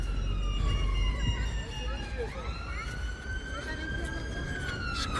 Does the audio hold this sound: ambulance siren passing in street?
yes